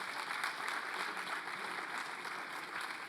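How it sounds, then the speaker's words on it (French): Sustained crowd applause at an innovation awards ceremony, dense and steady clapping from many hands, fairly distant, continuing without break. "je vous propose qu'on les applaudisse fort pour tout le travail qu'ils ont accompli"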